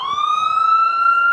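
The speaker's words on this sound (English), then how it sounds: "it's an ambulance." An ambulance siren passes outside, a loud steady wail that rises slightly in pitch, with rich overtones, sounding throughout with no talk over it.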